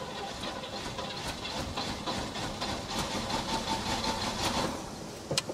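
A 1968 Chevy Caprice engine cranks continuously, a rough churning rumble with sputtering bursts as it nearly catches, fairly close and steady, then fades to a few last knocks.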